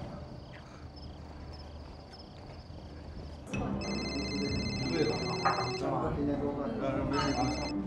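A telephone rings unanswered in a room, the repeating electronic ring bursts clear and close after a quieter stretch, with a low background underneath and no answer.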